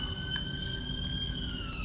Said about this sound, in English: You gotta wait for the ambulance to go by.